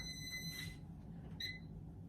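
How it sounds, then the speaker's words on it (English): A timer alarm goes off in a workshop where coasters are coated with shellac, giving two short, high electronic beeping bursts close by over quiet background hum. "that's my timer"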